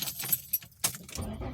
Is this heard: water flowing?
no